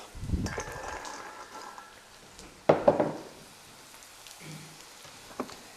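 Liver frying in a pan as soaked chickpeas go in, with a continuous hissing sizzle, a sudden splashy burst as they drop in midway, then softer crackling that fades.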